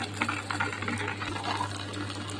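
A wet grinder's stones turn through onion vada batter, a steady mechanical whir with a low hum and faint rhythmic scraping, close and continuous.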